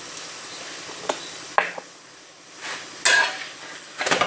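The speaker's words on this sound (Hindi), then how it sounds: "दूसरी साइड पे भी मैं घी लगा रही हूँ।" Paratha cooks on a hot pan as ghee is spread over the second side, giving soft intermittent sizzles and scraping taps close by.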